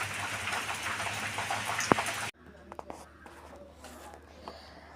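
Rain falls steadily outside a house, a dense, even hiss that cuts off abruptly about halfway through, leaving quieter room sounds.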